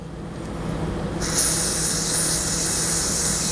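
A steady hiss of aerosol parts cleaner sprayed onto a STIHL spark arrester starts after a moment of quiet room noise and continues evenly, close to the microphone.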